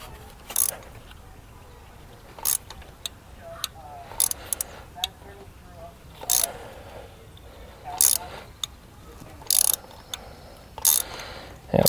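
A ratchet with a 5/8 spark plug socket works a spark plug loose on a Chrysler 200 3.6L V6, giving scattered sharp clicking bursts at irregular intervals, fairly close, over a quiet background.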